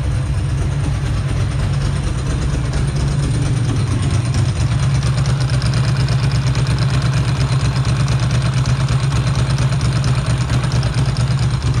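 A Ducati 2V fuel-injected motorcycle engine idles steadily and loudly up close, a constant low throbbing rumble with no other sounds.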